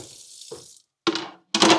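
Chunks of beef dropped into a hot pot for soup make two short, sharp bursts of sizzle and clatter, separated by brief silence and preceded by a softer, lower rustle.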